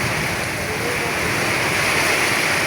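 Heavy rain pours down in Dhaka's Kabirpur area, a dense, continuous roaring wash of falling water, loud and close, with no pauses across the short stretch.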